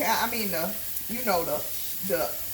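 Beef, mock meat and shiitake mushrooms brown in a pan, a soft, steady sizzle running beneath a voice talking close to the microphone.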